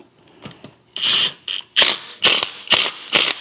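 An impact wrench tightens bolts on a Honda 450R quad in a series of short, loud ratcheting bursts, about five in a row, preceded by faint clicks.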